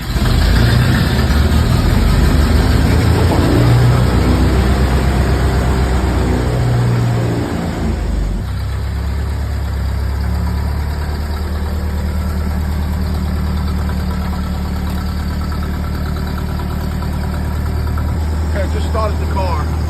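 A Ford Model A engine cranks and fires into a loud, close running sound, then settles into a steady, raised idle with a low rhythmic chug that continues to the end.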